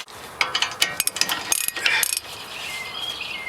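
A ratchet loosens 17mm bolts on the spindle of a 1995 Honda Civic, giving rapid bursts of close, crisp clicking in quick irregular strokes, then a softer whirring tail.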